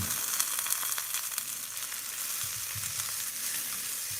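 Onions fry in a cast iron skillet with a steady bright sizzle, close up, and a few soft stirring scrapes partway through. Nobody talks.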